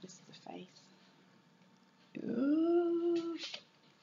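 A dog whimpers and growls up close, a short whine early, then a longer rising, tonal growl-whine lasting over a second.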